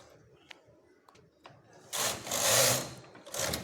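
A knitting machine knits a child's sweater sleeve, with a few faint clicks and then loud carriage passes, close and rhythmic, swishing back and forth in bursts.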